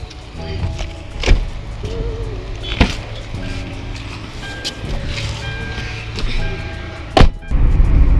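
Car ride in Goa with steady low road and engine rumble, a few clicks and thumps, and a louder burst of noise near the end.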